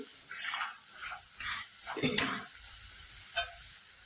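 Chili-garlic paste is sautéed in a pan while making a gram-flour vadi, giving a soft sizzle under repeated scraping stir strokes, close and moderate, with one sharper clack near the middle.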